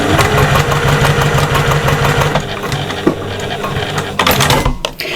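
Domestic sewing machine stitching two pieces of fabric together for a patchwork shopper bag, a close, rapid mechanical chatter that runs steadily, slows briefly midway, then picks up again before stopping.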